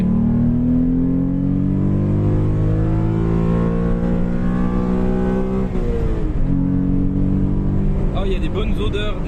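Renault Clio V6 with its engine mounted behind the seats drones loudly from inside the cabin, its pitch rising steadily through a gear, dipping at a shift and climbing again, with people talking over it.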